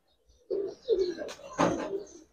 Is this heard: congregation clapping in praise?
no